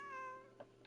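Single drawn-out, tonal cat meow in the video game Genshin Impact, faint and fading within half a second, followed by a couple of soft clicks.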